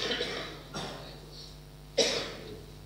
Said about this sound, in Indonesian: Afwan, batuknya belum sembuh.